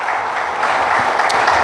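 A church congregation applauds during a service, a steady dense wash of clapping from many hands, filling the room at an even level.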